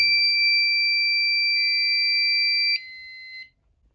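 A fire alarm system on a Fire Lite MS-5UD panel sounds a loud, steady electronic horn tone that holds for under three seconds, then drops to a quieter shifted tone before cutting off into near silence.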